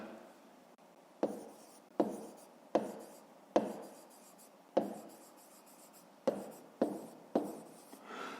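Pen scratching across paper while a fifth-grade math exercise is worked out: about nine short, separate bursts of writing, each starting sharply and fading, close and fairly quiet, with no talking.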